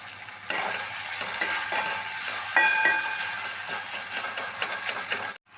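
Tomatoes cook down soft with salt in a pan for a simple pasta, giving a continuous hiss of frying with repeated scrapes and clinks from a stirring spoon, then a sudden stop.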